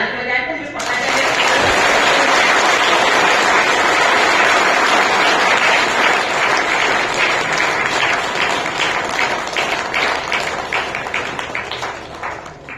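Jail audience of inmates clapping with both hands raised, a sudden loud, dense burst of applause sustained throughout, thinning slightly into more distinct claps toward the end.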